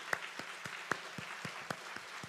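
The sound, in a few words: congregation applauding in praise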